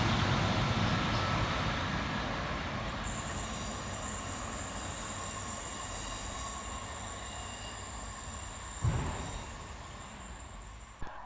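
A Class 150 Transport for Wales diesel train rolls into a station with a steady rumble and high wheel squeal, growing closer, with a brief clunk near the end.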